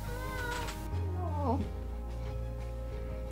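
A cat meows once behind a closed door, a close, drawn-out cry with a wavering pitch rising over a low steady hum in the room.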